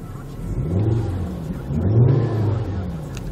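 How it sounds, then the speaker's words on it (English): Volvo V50 station wagon with 64,000 km and a five-cylinder engine revving while parked, a steady low idle swelling into a louder, deeper rev midway before easing back. "I'll give it a bit of a rev for you now, and we'll see how she sounds"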